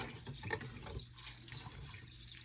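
Rice grains are rubbed together in water to rinse off the starch, making soft, quiet swishing and trickling sounds that rise and fall gently without any voices.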